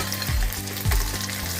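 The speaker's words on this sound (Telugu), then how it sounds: "ఇవన్నీ అందులో వేసి ఒకసారి దూరగా వేపుకొని" Onion and curry leaves frying in hot oil in a pan for a tempering, a steady close sizzle with two louder bursts as the pan is stirred.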